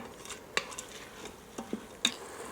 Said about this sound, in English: Then we'll give that a stir.